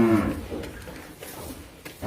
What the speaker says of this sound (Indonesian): Sapi putih, sapi peranakan ongol.